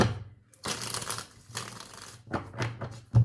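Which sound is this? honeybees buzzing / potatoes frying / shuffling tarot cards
shuffling tarot cards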